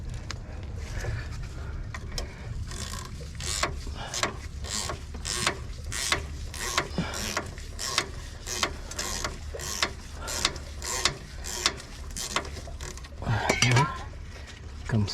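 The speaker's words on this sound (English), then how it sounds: "we finish taking the pin of the caliper" A ratchet fitted with a Torx T40 bit removes the caliper pins on a car's front brake, giving a close, steady run of rapid clicking strokes with brief metallic clinks.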